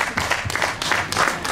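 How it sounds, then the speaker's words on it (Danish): A brief burst of steady clapping from a small crowd outdoors at a demonstration by the job centre in Aabenraa, applauding for Kim, fairly loud and without talk. "Så skal vi ikke lige klappe lidt af Kim?"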